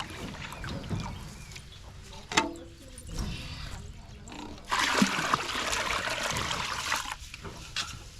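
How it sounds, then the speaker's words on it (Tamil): Water poured from a container into a cattle trough, mixed with rice gruel water, heard as close splashing and sloshing with a brief splash burst, then a steady louder pour running to the end. "இப்போ தொட்டி தண்ணியோட சேர்த்து ஊற்றி மாட்டுக்கு தண்ணி வச்சிடலாம்"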